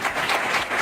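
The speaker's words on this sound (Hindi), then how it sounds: "भाई ने स्पेशल एक बंदा ताली बजाने के लिए रखा हुआ है।" Clapping hands in a short, brisk burst, loud and close, with the claps running together like quick applause.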